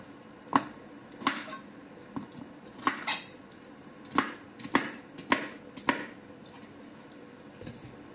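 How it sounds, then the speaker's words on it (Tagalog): Sharp kitchen knife slicing through carrots on a board, about ten crisp chopping thuds and clicks in an uneven rhythm, close and moderately loud, with quiet pauses between cuts. "Pagka matalas po yung kutsilyo, madali lang hiwain."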